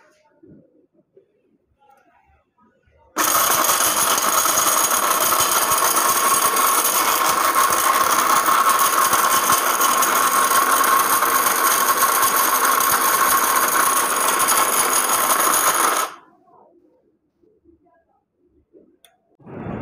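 A grinding machine crushing brick chips and dry turmeric roars up suddenly, runs at a loud steady whine with gritty crunching for about thirteen seconds, then cuts off abruptly into quiet.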